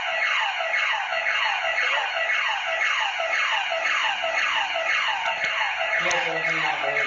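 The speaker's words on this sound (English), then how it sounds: "You want to turn the alarm off?" A home alarm system in a Florida mansion blares a loud, continuous electronic siren whose tone sweeps upward over and over in a fast, steady cycle, with no pause.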